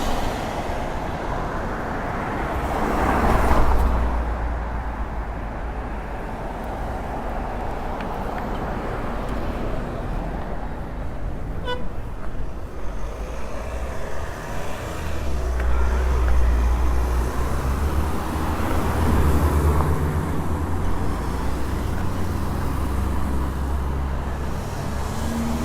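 Steady city street traffic in Jerusalem near a Greek Orthodox monastery, a continuous roadway rumble with passing vehicles swelling and fading and a brief horn-like tone midway.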